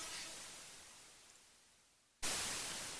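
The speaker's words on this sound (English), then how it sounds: "a lot of them will be pretty simple white noise stuff like this" A steady wash of white noise fades slowly, then jumps back to full level and keeps hissing.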